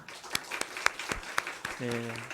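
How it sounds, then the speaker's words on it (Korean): A church congregation at a Wednesday evening service claps in welcome, scattered, sparse claps at moderate distance, with a voice beginning to speak near the end. "우리 박수로 환영하도록 하겠습니다"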